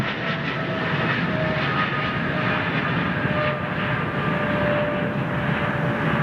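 A jet airliner flies past and banks hard right, a steady broad engine roar holding at moderate distance for the whole stretch with no voices.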